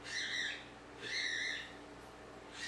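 Birds outdoors give repeated harsh squawking calls, three bursts in a slow rhythm, fairly faint over a low steady background hum.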